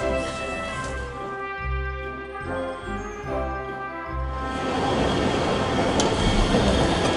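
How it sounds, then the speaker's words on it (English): An airport terminal train runs with a steady rumbling roar and tonal whine; the wheel and track noise swells louder and rougher toward the end, with no talk. "so you gotta get on the train"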